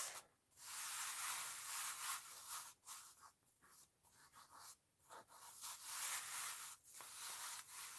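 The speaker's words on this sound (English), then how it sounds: "Just going to rub my hand all over and see where it sticks." A hand rubbing back and forth over a stamped paper box, giving a dry, close scraping swish in repeated strokes with short pauses between.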